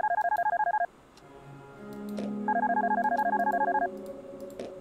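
A telephone in the video game Darkness Within rings with two bursts of warbling electronic trilling, separated by a rising low tone, close and clear with no talking.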